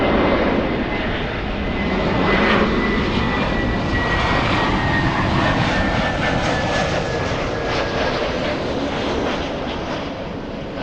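A Turkish Airlines Dreamliner jet at LAX airport gives a steady loud broadband roar with a faint whining tone, sustained for about eleven seconds and fading slightly at the end, with no talking.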